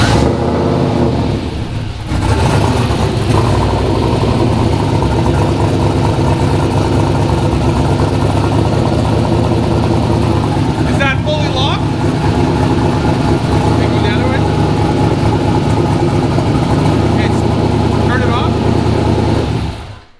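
A turbocharged LS-engined car fires up and settles into a loud, steady idle close by, with a brief mechanical rattle partway through.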